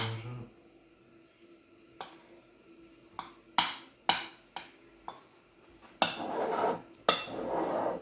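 Utensils clink and scrape against a bowl during mixing, with sharp irregular knocks and clatters over a quiet background, close and fairly loud, no talk.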